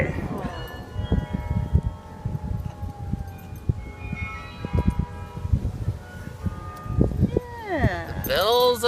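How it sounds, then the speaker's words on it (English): Church tower bells ringing outdoors in summer, a series of clear struck tones with ringing overtones scattered across the clip, mixed with nearby voices chatting and moving about. "we're outside listening to the bell towers"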